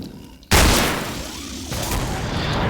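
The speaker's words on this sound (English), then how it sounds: "I shot him 3 times in the body because no headshots were registered" In the video game Killing Floor, a sudden loud gunshot bursts out after a quiet moment, then rings into a booming, rumbling tail that swells again toward the end.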